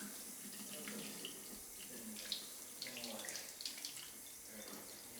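Tap water running into a sink during rinsing, a continuous soft splashing flow with small bursts as hands move under the stream, fairly quiet and close.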